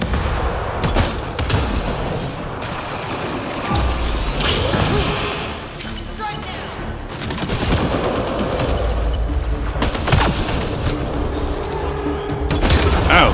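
Sustained bursts of gunfire and explosions from the sci-fi shooter Mass Effect Andromeda, loud and dense with rapid automatic fire, booms and mechanical clanks filling the whole stretch with no pause.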